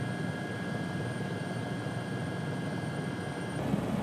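A helicopter's steady engine and rotor drone, loud and continuous throughout, with no voices, flying between rally stages at Rally Finland.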